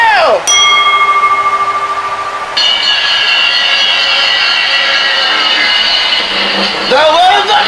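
At the end of a professional wrestling match at an ECW event, a ring bell rings with a sustained metallic tone that fades, then rings again, heard loud over a roaring arena crowd.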